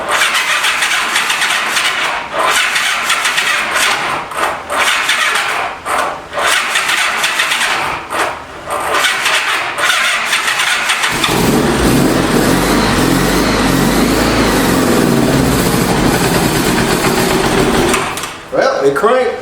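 A 1985 Honda Gold Wing 1200cc motorcycle that has sat for years cranks with a loud whirring starter, then catches and settles into a steady rumbling idle, close in a garage with a person talking over it.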